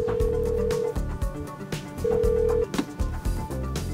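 Telephone ringback tones sound while a call is placed to a gardening guest for an interview, two long steady electronic rings repeating with pauses in between over a low background hum.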